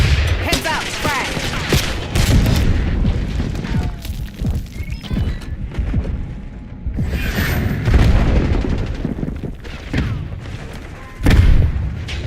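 Frag grenade blast in the video game Robocop Rogue City, set amid a loud, chaotic firefight with repeated booming explosions and bursts of gunfire.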